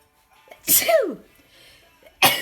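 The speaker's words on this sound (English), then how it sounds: "I don't know if I'm going to sneeze" A single sharp sneeze bursts out close by after a short breath in, followed by a brief pause and another sharp exhale.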